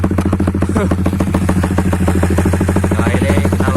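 A Honda CB150R motorcycle with a BSS round exhaust idles nearby, a loud, even, rapid-pulsing mechanical putter with a faint body rattle, steady throughout.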